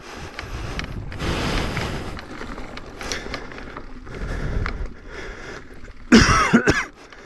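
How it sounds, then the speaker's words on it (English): A mountain biker out on the Monte Sano jump trails coughs and clears his throat from pollen, a few harsh rasping coughs near the end over wind buffeting the microphone and riding noise. "I'm coughing because all this pollen feels like you're breathing in dust."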